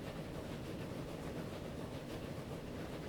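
A train running on rails in Transport Fever 2 gives a steady, quiet low rumble with a faint rhythmic roll, unchanging and distant, with no voices.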